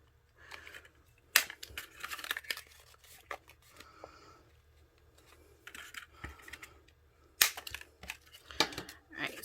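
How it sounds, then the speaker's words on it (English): Scissors cut through paper from a 6x6 craft pad, close crisp snips and crunchy slicing strokes in irregular bursts separated by quiet pauses. "go ahead and take your scissor and cut it"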